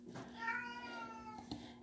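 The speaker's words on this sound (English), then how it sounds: "And that's a Casper cat in the background, all hyper" A hyper cat meows once in a long, drawn-out call from the background of a home kitchen, fairly clear over a steady low hum, with a short second sound near the end.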